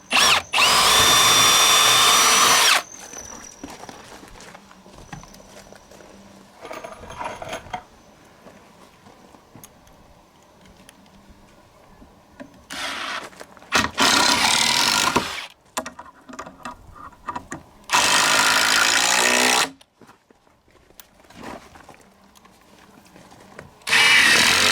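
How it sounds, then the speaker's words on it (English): A power drill pre-drills into a retaining wall support in loud bursts of whirring, separated by quieter pauses filled with faint handling and clatter. "I just pre-drill a little bit"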